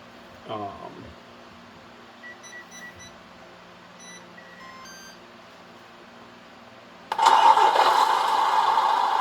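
A GT Power sound kit in a 1/14 Tamiya Grand Hauler Peterbilt RC dump truck plays a few electronic beeps, then bursts into a loud simulated engine start and steady running sound near the end.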